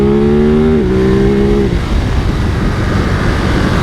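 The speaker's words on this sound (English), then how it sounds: "you get the Termignonis, which are still street spec, so these do have a nice burble" A 2024 Ducati Monster SP twin-cylinder motorcycle with street-spec Termignoni exhausts, heard close and loud: a steady revving tone with a brief dip and rise in pitch, then a rough lower burble with no talking.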